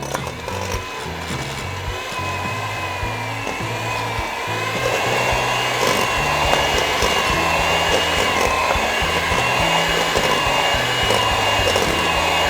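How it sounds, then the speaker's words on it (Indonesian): An electric mixer beating butter and powdered sugar in a bowl for cookie dough, a steady whirring motor with the pitch stepping and the load rising partway through, close and continuous without talk. "ini kita aduk butter dan gula halus"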